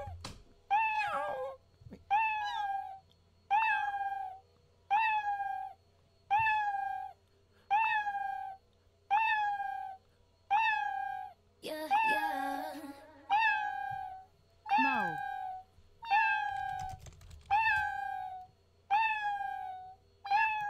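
Someone imitates a cat, voicing a long series of evenly spaced, drawn-out meows, about a dozen in a row, with a short burst of other vocal noise partway through.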